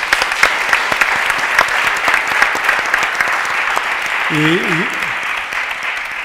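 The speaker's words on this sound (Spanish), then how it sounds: "Yo creo que un aplauso muy merecido." A steady wash of audience applause fills a conference hall after a panel discussion on European funds for mid-sized Spanish companies, dense and sustained throughout, with a voice speaking briefly over it.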